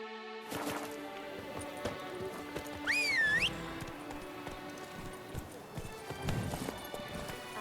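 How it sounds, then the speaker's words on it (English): Hoofbeats of a galloping horse in The Witcher 3: Wild Hunt on PS4, a steady clip-clop with a brief whinny midway, set among game music and effects. "Run, Roach."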